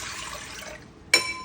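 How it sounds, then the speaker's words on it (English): Water poured into a stand mixer bowl while making sourdough dough, a soft, fairly quiet stream of liquid that fades, followed by a brief sharper splash near the end. "I'm gonna put the water in first."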